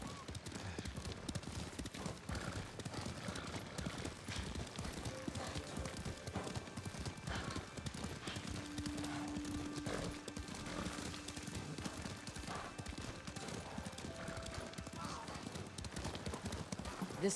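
In Ghost of Tsushima, horse hooves clip-clop steadily throughout, faint and mixed with occasional whinnies, under ongoing character dialogue.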